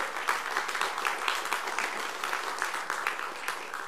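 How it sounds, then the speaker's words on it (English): A crowd applauds steadily at an ROTC commissioning ceremony, many hands clapping at once in a dense, continuous patter without a break. "cadets, round of applause that way"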